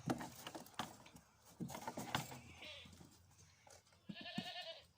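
A baby goat gives a few short, fairly close bleats in a quiet farm setting, mixed with scattered wooden knocks and rustling.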